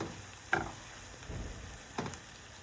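Onion frying in a pan until brown, a faint sizzle broken by a few soft scrapes and stirring knocks, close by with no talk.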